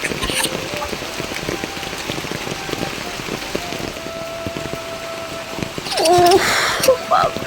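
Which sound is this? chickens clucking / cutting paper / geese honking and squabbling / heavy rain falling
heavy rain falling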